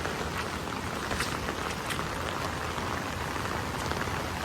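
Steady, dense heavy rain pattering hard on surfaces near a flooding bayou, a continuous broadband hiss with scattered sharper drops and no voices.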